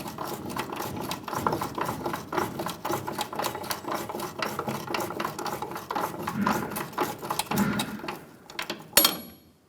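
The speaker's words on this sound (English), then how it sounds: "I'm working this bolt back and forth to break the rust inside of the bushing" Rusted bolt being worked back and forth inside a control arm bushing on a 2014-2018 Chevrolet Silverado 1500, giving a steady gritty scraping and grinding close up, with a short louder knock near the end.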